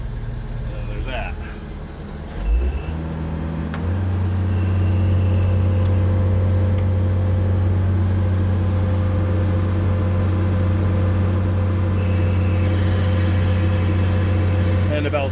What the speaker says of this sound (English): And the belt squealing.